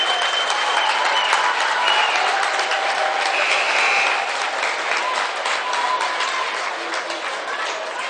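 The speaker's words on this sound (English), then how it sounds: "And of course the Marion fans are cheering the poor sportsmanship." Marion basketball fans in a gym clap and cheer in a dense, continuous roar that holds loud and steady throughout, with no clear voices above it.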